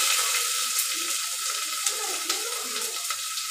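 Green chilies and onions fry for chicken biryani, a soft even sizzle in the pan with faint stirring taps and no talk.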